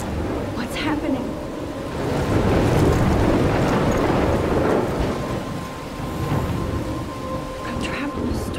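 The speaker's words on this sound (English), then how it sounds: "I'm trapped in a storm." Storm wind and crashing waves roar in a steady, loud wash, swelling in the middle and easing toward the end, with faint rumbling beneath, from the game Life Is Strange.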